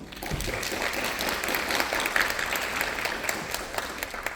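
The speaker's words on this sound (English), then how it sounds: "Big round of applause." An audience at an afternoon talk session applauds to welcome a speaker, a steady, even wash of many clapping hands filling the whole stretch without talk.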